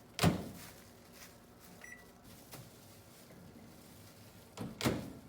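A microwave door thuds shut, a single electronic beep sounds, and a faint hum runs quietly while butter melts, before the door clunks open again.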